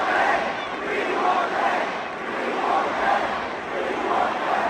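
A large indoor concert crowd shouts and chants in frustration after the set is stopped, a loud, continuous roar of many voices that swells and dips in rhythmic waves.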